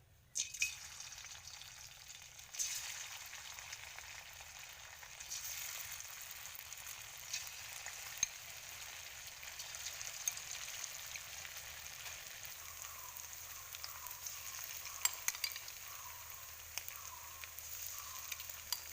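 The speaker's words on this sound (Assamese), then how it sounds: "তেল গৰম হৈ গৈছে, মই এতিয়া চিকেনখিনি ইয়াত দি ল'ম।" Chicken pieces fry in hot oil in a kadai, giving a faint, steady sizzling hiss throughout with a few soft crackles and no voices.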